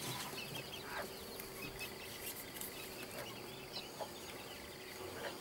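A hen clucks softly and repeatedly, calling her chicks, in a quiet farmyard with faint bird and insect sounds around; the clucks are low and scattered rather than loud.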